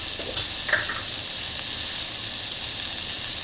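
Cluster beans (guar) frying in a pan with goda masala and a little chilli, stirred as salt and jaggery go in: a steady, even sizzle with a few faint scraping stirs near the start, no voices.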